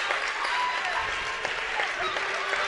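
A large crowd at a high school basketball game claps and cheers in a standing ovation as the Blazers receive their championship rings, a loud, continuous wash of applause filling the whole stretch.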